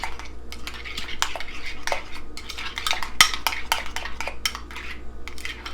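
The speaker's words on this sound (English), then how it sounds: "now let's stir that together" A spoon stirs garlic and salt into a burger sauce in a bowl, giving quick repeated clinks and scrapes against the dish in an irregular rhythm, close and fairly loud with no talk.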